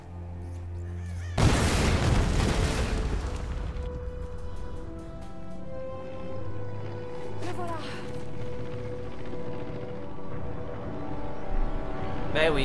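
A storm erupts in the Tomb Raider video game with a sudden loud crashing boom, followed by rumbling wind and turbulent noise that swells and fades over several seconds.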